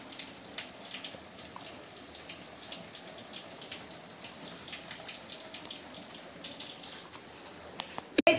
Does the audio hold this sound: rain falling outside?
yes